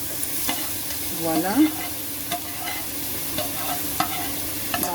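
A broccoli and shrimp mixture transferred into a large pasta pot: steady sizzling and frying hiss with soft stirring scrapes throughout, close and fairly even, and a short word spoken partway through.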